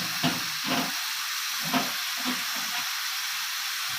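Four garlic cloves frying in a pan with vegetables give a continuous hissing sizzle, broken by a few soft knocks and clatters from stirring.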